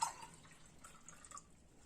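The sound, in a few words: pouring water into milk for baklava dough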